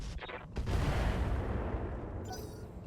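Gunfire rings out in a video game, a burst of loud sharp blasts followed by a dense rumbling barrage that fades out into quieter background.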